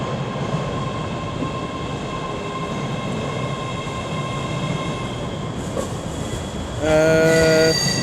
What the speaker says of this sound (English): now coming in will be 385009 with a terminating ScotRail service from Cumbernauld.